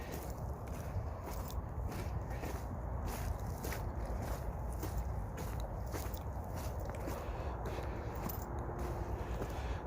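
Steady crunching footsteps on frozen ground, close by, with a brittle crackle at each step and no talking.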